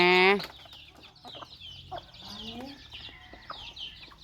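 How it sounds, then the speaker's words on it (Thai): A hen clucks in a run of short, uneven calls, some rising and squawky, close by, starting after a loud tonal burst and continuing under faint background sounds. "โอ้ ไก่แม่นี่"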